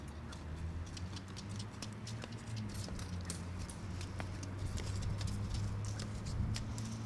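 A horse's hooves clip-clop in a steady, faint patter of light taps over a low outdoor rumble, with no talking.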